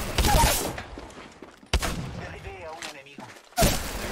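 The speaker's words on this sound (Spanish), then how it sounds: "¿Pero cómo aguanta tanto disparo la gente en este juego?" Bursts of gunfire from the shooter Apex Legends, sharp loud volleys at the start, middle and end with quieter rattling shots between them, no speech.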